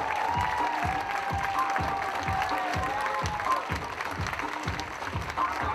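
School show audience applauds a scene with loud, continuous clapping from many people, steady throughout with a faint whistle or cheer riding over it.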